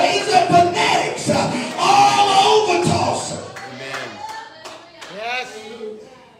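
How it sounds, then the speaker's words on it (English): Church congregation clapping hands in a lively burst during a sermon, dense overlapping claps with voices mixed in, then thinning to scattered claps as a preacher's voice returns. "When you get excited, you clap your hands"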